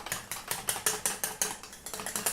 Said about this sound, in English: So really give that a good whisk.